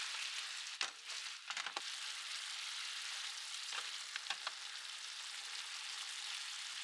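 A glaze of soy sauce, sake, mirin and sugar sizzles and bubbles steadily in a pan, close by, with a few brief utensil clicks as it is stirred and reduced.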